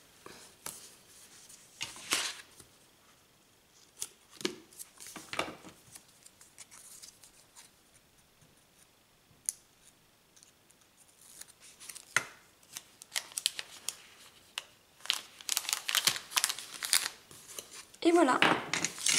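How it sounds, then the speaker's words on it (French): Double-sided tape is peeled and pressed to stick a small paper label onto chocolate egg packaging. Soft crinkles, rips and paper handling noises come in scattered bursts, growing busier and louder toward the end. "je vais utiliser à nouveau le double face pour coller mon étiquette"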